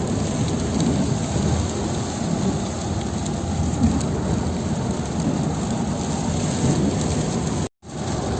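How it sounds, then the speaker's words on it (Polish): Heavy rain pouring steadily during a thunderstorm in Thailand, a dense continuous hiss with low rumbling thunder underneath, loud and unbroken apart from a brief dropout near the end. "W no Tajlandii też potrafi padać deszcz."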